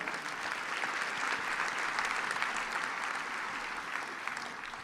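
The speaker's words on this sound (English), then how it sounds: "Round of applause for Bill." Steady, enthusiastic applause from an audience at a charity benefit night fills the clip, dense clapping that holds level throughout with a slight fade at the end.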